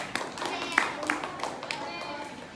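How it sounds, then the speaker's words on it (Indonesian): A class claps for a child during a microteaching lesson, a short burst of scattered hand claps heard close by with a voice talking over it. "Tepuk tangan untuk adik kita."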